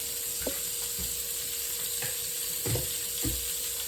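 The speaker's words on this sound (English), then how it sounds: "So let the butter melt for just a second and coat the bottom of the skillet." Butter melting in a hot skillet for French toast gives a soft, continuous sizzle, broken by a few low knocks and clinks of the pan, close and moderately loud.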